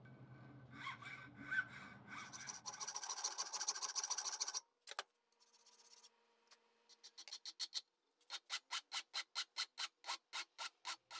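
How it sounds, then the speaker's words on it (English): A hand file works down steel welds in rasping strokes. Irregular bursts come first, then a run of regular, quick back-and-forth strokes, close and clear with no talk. "Now I can start filing away the welds and make these look as if they were never welded."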